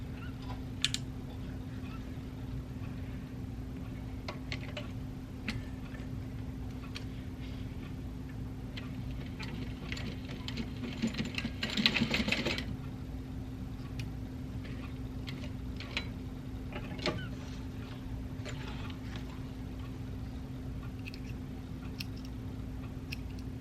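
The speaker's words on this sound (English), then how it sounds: "So let's try to get this sewed." A sewing machine stitching the lining of a rose-shaped handbag, giving a steady ticking run of needle strokes over a constant motor hum, with a louder, busier stretch midway.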